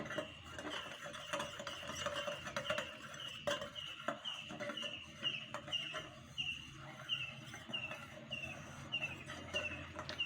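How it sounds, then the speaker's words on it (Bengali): A spoon stirring food colouring and agar agar powder into a jelly candy mixture in a small bowl, giving quiet, regularly repeating light clinks and scrapes with no talking. "এবার আমি এটাকে সুন্দর করে গুলে নেব"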